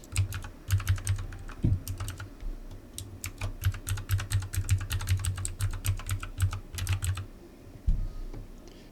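An email address being typed on a computer keyboard during an online trading account registration: rapid, close, irregular key clicks in bursts with short pauses, no talk.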